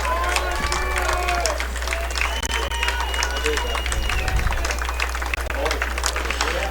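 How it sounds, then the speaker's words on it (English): A soccer crowd at a boys' sectional championship between Winamac and Argos cheers and applauds as players come off the field, a steady wash of distant cheering and clapping with a loud low hum underneath. "the fans cheering on their boys as they're going off"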